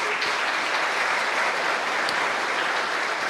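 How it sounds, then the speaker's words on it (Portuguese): An audience applauds at a Bitcoin talk event, dense, steady clapping that fills the room for a few seconds with no voices over it. "Uma salva de palmas."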